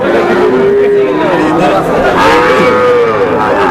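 A dairy cow at a cattle market lets out a drawn-out moo, then another, amid the busy chatter of a crowd of people talking nearby.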